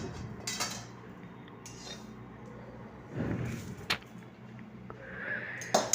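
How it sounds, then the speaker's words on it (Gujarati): Roasted sambhar masala spices are mixed in a pan, giving soft scraping with scattered metallic clinks and a few louder knocks against the pan's sides, at close range. "હવે આપણે તે બધું મિક્સ કરી દઈશું"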